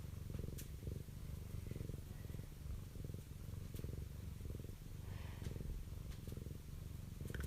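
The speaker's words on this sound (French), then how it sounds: "Il ronronne émettant des fréquences d'amour, de tendresse," A cat purrs close and alone, a soft, continuous rhythmic rumble that pulses evenly with each breath for several seconds.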